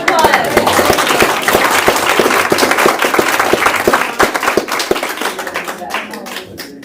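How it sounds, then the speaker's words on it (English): A talent show audience applauds with dense, steady hand clapping that stays loud for several seconds, then thins and fades toward the end. "So Let's give her a round of applause."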